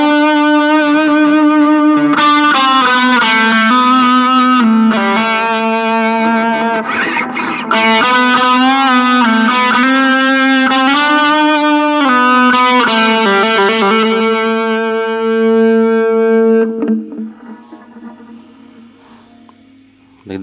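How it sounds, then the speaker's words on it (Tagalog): An electric guitar played through a Blackstar amp with overdrive, sustained distorted notes and chords ringing out loudly and steadily before fading at the end. "Talagang maganda yung tunog ng overdrive ng Blackstar amp na to"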